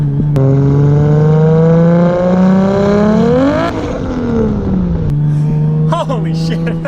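A Duramax diesel pickup with traction control off revs hard as its wheels spin on a rain-soaked surface, the engine note climbing steadily to a peak, dropping back, then rising again in short revs, loud and close.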